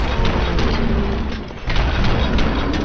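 A loud breach explosion in RoboCop: Rogue City, a heavy booming blast with rumbling debris that stays loud throughout, briefly dipping before surging again.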